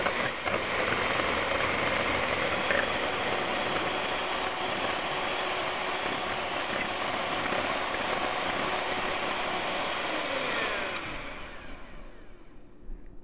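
An electric hand mixer whipping egg whites for a maple lemon chiffon pie filling, a loud steady motor whine held for about ten seconds before winding down and stopping.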